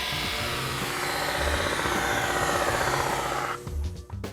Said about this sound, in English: we have one last thing to do, and that's just to sharpen up the edges to get it ready for the mountain